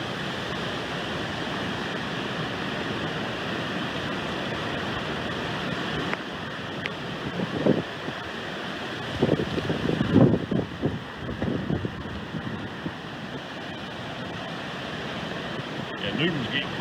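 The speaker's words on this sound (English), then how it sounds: "These waves just crashing into the yard." Hurricane Florence wind and rain roar steadily as waves crash into a yard, a dense broadband rush with louder surges midway, heard from under a canopy near the Trent and Neuse rivers.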